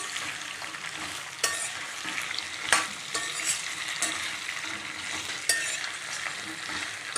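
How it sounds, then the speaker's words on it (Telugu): Okra frying in hot oil for a yogurt curry, a dense continuous crackling sizzle close by, punctuated now and then by sharper pops and the tap of a stirring spoon. "ఆయిల్లో బెండకాయలని మంచిగా ఫ్రై అయ్యే వరకు ఫ్రై చేసుకోవాలి."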